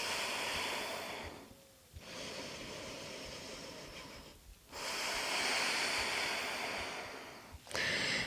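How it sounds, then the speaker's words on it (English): Slow, deep breathing during a vinyasa yoga session, close and breathy, with long airy inhales and exhales separated by short pauses. "Take a nice deep breath."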